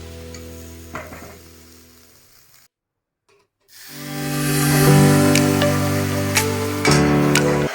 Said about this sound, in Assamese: এতিয়া মিক্সিত পিছা মছলাখিনি ভাজি লৈছোঁ।